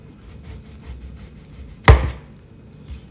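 A knife slices once through eggplant on a board for frying, a single sharp cut close by against a faint background.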